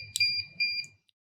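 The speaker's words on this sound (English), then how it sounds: "Your keypad should beep twice," A USAutomatic wireless keypad gives two or three quick electronic beeps in a row, then a tiny faint blip, in an otherwise quiet room.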